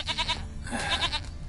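A goat in The Witcher 3 bleats in short wavering cries, a quick trembling call followed by a longer one, fairly close and clear.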